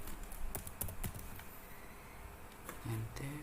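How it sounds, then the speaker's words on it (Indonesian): Quick bursts of key taps on a computer keyboard, close and fairly light, clustered early and again near the end, with a voice speaking over the last part. "kita bisa ketikkan line tab"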